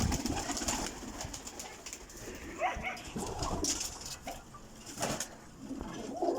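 Purebred paired pigeons in a champion breeder's loft coo steadily in soft low rolls, with occasional sharper noises cutting through the room.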